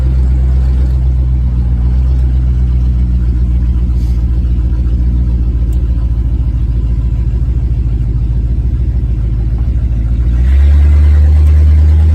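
A 1968 Lincoln Continental engine fitted with Holley Sniper EFI drones steadily from inside the cabin, then shifts pitch and grows heavier near the end as the automatic gearbox changes gear.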